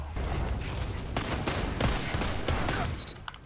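Ikelos SMG firing in Destiny 2 PvP, rapid bursts of submachine gun fire that crackle in repeated volleys of closely spaced shots over a steady game background.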